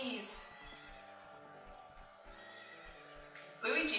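Pony neighs in The Legend of Zelda: Ocarina of Time, a whinny with faint clip-clop under game music and a speaking player, ending in a louder burst.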